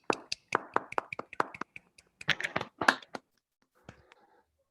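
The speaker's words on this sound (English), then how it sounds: "let's give Doug a round of applause" Scattered, uneven handclaps from a few people unmuted on an online lecture call, sharp individual claps close to the microphone in two loose bursts, then trailing off to near silence.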